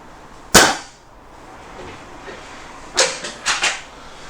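A Webley Exocet air rifle fires a Hobby pellet with one sharp, close crack. A few seconds later a quick cluster of lighter clicks and knocks follows, with nobody talking.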